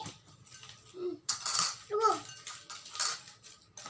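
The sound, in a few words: mixing nachos bhel in a bowl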